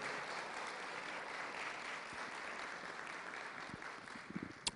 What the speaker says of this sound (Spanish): Ese aplauso, déselo al Señor, hermano lindo.